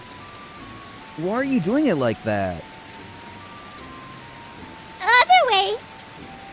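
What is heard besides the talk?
rain falling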